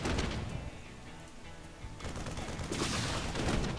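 Units in a strategy video game firing on a command center, a dense crackle of overlapping distant-sounding gunfire with impacts that swell louder toward the end, no talking.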